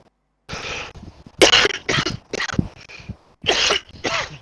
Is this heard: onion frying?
no